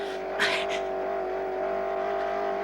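A racing car engine accelerates as a steady, loud, high-pitched drone that holds through the whole stretch, with a brief voice near the start.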